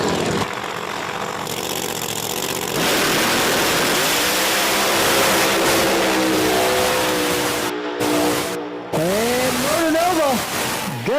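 Drag racing cars, Ryan Martin's and the Murder Nova, roar at Virginia Motorsports Park: loud engine noise swells into a launch, with rising revving whines near the end while a commentator talks over it.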